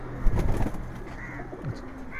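A Giribaj pigeon coos softly nearby with a brief flutter of wings, a few low throaty calls against a quiet background.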